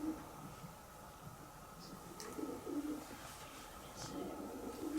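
Pigeons coo inside a church, several soft, throaty calls repeating at a moderate distance in a quiet, echoing interior.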